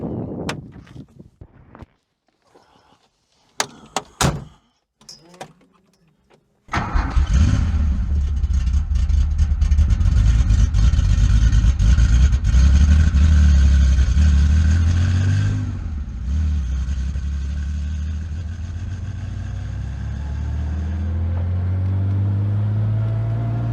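A fully restored 1974 Porsche with an air-cooled 2.7-litre flat-six: a few sharp clicks and cranking bursts, then the engine catches and roars loudly close by, holds a high rev, and drops to a rumbling idle with later throttle blips.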